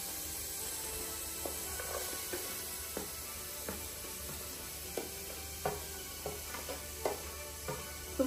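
Onions frying in a pan with pork fat for Goan pork sorpatel, a faint steady sizzle broken by irregular clicks and scrapes of a spoon against the pan.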